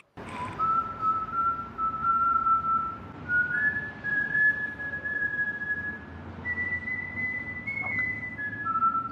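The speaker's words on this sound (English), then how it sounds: "Anybody who knows the whistle at the beginning, someone said it's from The Wire" A person whistles a slow, wavering melody of long held notes for about nine seconds, clear and prominent over a faint low background hum, with no talking.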